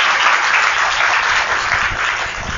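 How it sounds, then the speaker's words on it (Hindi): An audience at a Radhastami devotional festival program claps together in a loud, continuous burst of applause that fills the whole moment without any speech. "जो जो सखियां ताली बजाएंगे"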